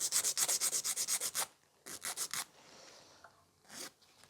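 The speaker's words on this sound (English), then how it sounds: "File it one side, file it other side, and keep shortening that free." A hand nail file works back and forth across a long natural nail to shorten it, with a rapid run of about a dozen close, raspy strokes, a short pause, then four more strokes and a final single pass.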